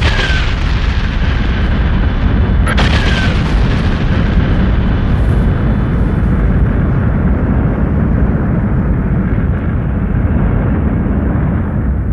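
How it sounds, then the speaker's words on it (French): A deep, rumbling supernova explosion boom rolls on continuously, loud and heavy, with a sharp crackle near the start. "elle finit par exploser en ce qu'on appelle une nova ou supernova"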